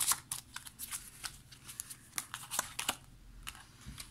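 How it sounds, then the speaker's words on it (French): Tarot cards are shuffled and laid down on a table, covering three cards, giving a string of close, crisp papery snaps and slides at an irregular rhythm with no talking. "On va recouvrir juste ici les 3 cartes."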